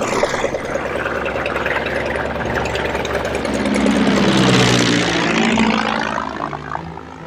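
A small propeller plane with a 75-horsepower engine starts up, its engine and airscrew droning loud and close, swelling to a peak midway before easing slightly.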